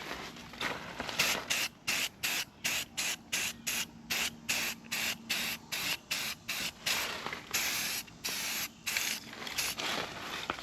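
Spray can laying a light, even coat of paint on trim of a 25-year-old truck, heard as a long run of short hissing bursts in steady rhythm, close and fairly loud, with no talk.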